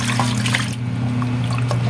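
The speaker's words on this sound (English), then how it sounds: "Then let's add water." Water poured steadily into a pot while making banana maja blanca, a continuous close splashing rush over a low steady hum.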